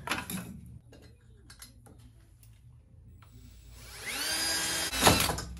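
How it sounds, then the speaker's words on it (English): A drill pre-drilling holes in a Jeep JK grill support. Light clattering and taps come first, then the motor whines up loud and rising near the end, close by. "I'm just going to pre-drill it"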